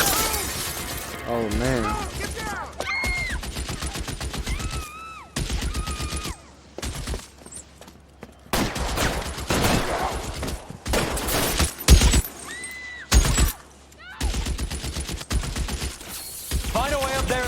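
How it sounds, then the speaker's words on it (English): Enemy gunshots in a shooter video game crack out in irregular clusters of sharp, loud bursts with shattering noise, mixed with someone talking and other game sounds throughout. "This guy popping off shots."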